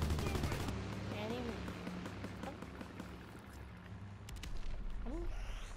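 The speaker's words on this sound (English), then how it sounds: "I hear gunshots from like behind me" Rapid bursts of gunfire from the video game Call of Duty: WWII, with sharp cracks and rattling volleys mixed with game effects and some voices.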